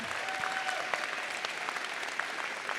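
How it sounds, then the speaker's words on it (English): Audience applause at a high school spring night club event, a steady dense wash of clapping throughout with a faint tone briefly underneath. "if everybody could please give them all a round of applause"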